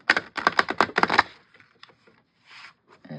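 A quick run of crisp, rapid clicks and riffles of oracle cards being shuffled, followed by a few softer scattered taps.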